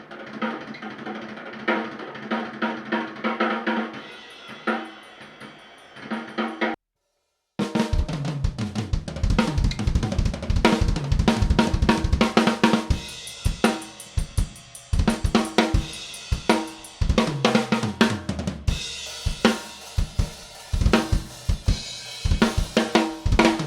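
A drum kit recorded with four mics into GarageBand plays back loud and punchy, kicks and snare hits with cymbals, pausing briefly before a busier groove continues.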